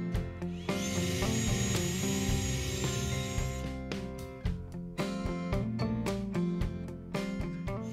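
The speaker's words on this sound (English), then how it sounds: "Next, I drilled a hole through the back of the box into the enclosure for wiring." Power drill boring a hole through the back of a project box for wiring on a DIY mini disc sander, a loud whining spin followed by rattling, chattering bursts as the bit cuts through.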